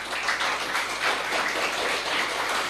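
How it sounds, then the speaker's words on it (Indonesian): Steady audience applause at a student talk show, a dense, even patter of many hands clapping throughout with no voices over it. "Tepuk tangan untuk kita semuanya."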